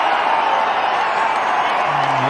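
Cricket crowd in a Test match stadium applauding Pujara reaching his double century, a steady broad wash of clapping and murmur held evenly throughout, with a faint low tone rising near the end.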